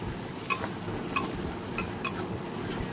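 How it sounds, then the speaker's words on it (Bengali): Ginger and garlic frying in hot oil give a steady, quiet sizzle, with a few sharp clinks of a utensil against the pan at regular intervals. "এবার আদা আর রসুনটা আমি ভালো করে ভেজে নিচ্ছি।"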